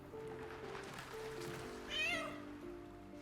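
A cat meows once in Baldur's Gate 3, a short faint rising call heard over a quiet game ambience with a soft background hum and no speech.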